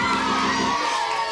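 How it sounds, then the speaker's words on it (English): A studio audience of children cheers and shouts together at a 1990 Perth kids' TV game show, a loud crowd roar that drops away sharply after under a second. "we have red people cheering and yellow people cheering and stuff"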